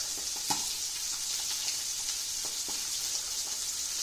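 Beurre blanc sauce simmers in a pan on the stove, a steady close hiss and gentle sizzle with a few small pops and clicks of bubbling throughout.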